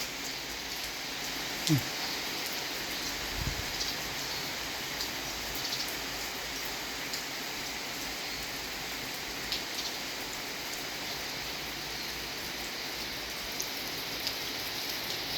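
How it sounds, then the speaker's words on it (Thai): Steady rain falls on a surface in the early morning, a constant wash of drops at moderate level with no talk, heard alone throughout. "ฝนตกเนาะ"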